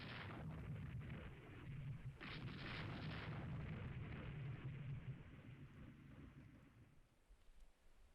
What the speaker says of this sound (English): My destroyers are shooting the enemy vessel